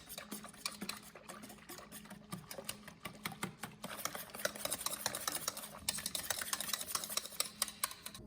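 Chocolate cream pie filling with cocoa is stirred in a pot over medium heat, a spoon or whisk scraping and clinking against the pan in quick, steady strokes, close up with no talking.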